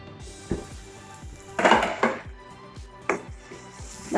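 A metal lid comes off a pot of chicken curry with tomatoes cooking on a low flame. A few close clanks and scrapes, the loudest in the middle, sit over a faint steady background hum. No voices.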